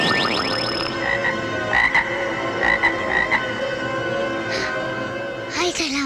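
Frog croaking in a repeated run of short, raspy calls, several bursts spaced irregularly over a few seconds, close and clear over a constant background tone in a comedy movie scene.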